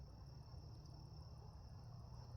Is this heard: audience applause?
no